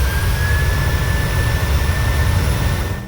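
Boeing 737 jet engines roar steadily during a go-around, a loud continuous rumble with a faint high whine that fades slightly at the end.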